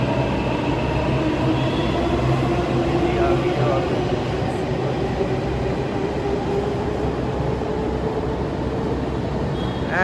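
Steady rumble of a Delhi metro train in motion, heard from inside the carriage, with continuous low wheel and rail noise throughout and people talking quietly under it.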